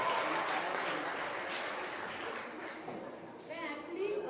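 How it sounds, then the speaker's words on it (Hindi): An audience at a school dance competition for underprivileged kids gives loud applause, a dense steady clapping crowd with voices and cheers mixed in and a high whistle or squeal rising near the end. "सो जोरदार तालियां आप लोगों के लिए"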